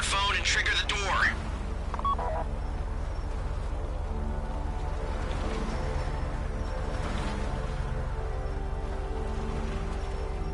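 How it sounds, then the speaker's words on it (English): In GTA 5, a phone keypad is tapped to trigger a door during a heist: a few quick electronic dial tones at the start, then a low steady game hum under faint background sounds. "Take out your phone and trigger the door."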